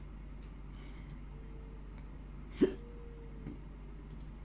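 A single abrupt hiccup, brief and fairly close, rises out of a faint steady hum, with a softer second catch about a second later.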